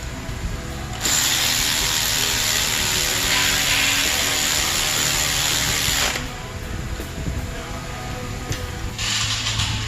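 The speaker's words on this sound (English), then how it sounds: "So all I'm doing now is just running the bolts in." Ratchet running LS-series cylinder head bolts down to bottom out on a V8 engine: a steady, close, continuous clicking whir from about one second in until six, pausing, then resuming briefly near the end, with no talk.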